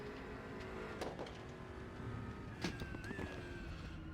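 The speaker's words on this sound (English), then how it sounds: "BMW, obviously, completely different type of engine." A BMW GT3 race car's engine drones in the RaceRoom racing game on the Nürburgring Nordschleife, a steady mid-level hum with a rising gear-change whine and brief clunks, heard without talk.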